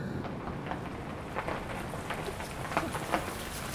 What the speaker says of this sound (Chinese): 讨厌，大概是要下雨了吧。